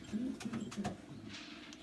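Racing pigeons in a stock loft coo close by in a short run of low, throaty pulses, followed by softer rustling and a faint background murmur.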